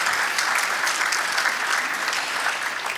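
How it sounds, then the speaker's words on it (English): Steady applause from an audience at a State of the City address, filling the room at a constant level for the whole stretch after a mayor is introduced. "round of applause for Mr."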